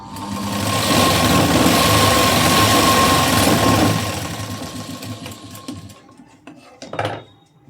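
A sewing machine stitches a folded neckline on a garment, running steadily and fairly loud for about four seconds before slowing into lighter, intermittent stitching and clicks.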